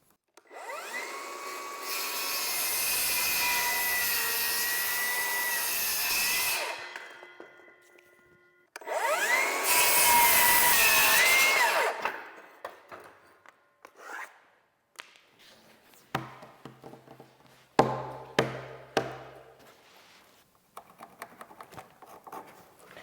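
Power saw cutting wooden boards while building interior walls for an off-grid workshop: two loud, sustained cuts of a few seconds each, separated by a pause, followed by scattered knocks and handling clatter of boards.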